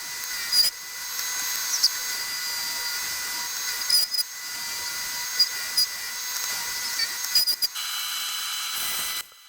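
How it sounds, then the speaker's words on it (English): Wooden cutting board strips with red centre stripes being flattened on a drum sander, giving a steady, loud machine whir with brief bumps and changes in pitch as each strip passes through. "Here I am back at the drum sander, just flattening off the red centre stripes for the boards."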